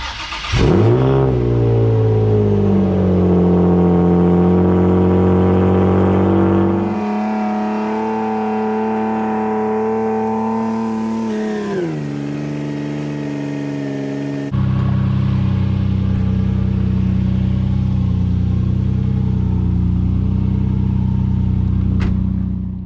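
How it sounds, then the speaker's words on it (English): Nissan 350z engine cold starting: a loud crank and catch, a high rev flare settling into a fast, loud idle, then dropping in steps to a lower, steady idle, close and alone. "let's start with a little cold start"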